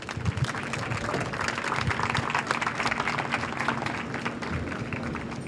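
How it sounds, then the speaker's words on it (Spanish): At a book presentation, an audience applauds, a dense, continuous patter of clapping hands filling the room without letup for several seconds. "Muchísimas gracias, un aplauso."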